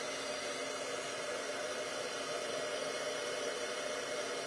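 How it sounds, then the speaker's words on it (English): A heat tool blows steadily for embossing on a stamped card, a constant, even, close whooshing hiss with no break over several seconds. "Come on, heat tool."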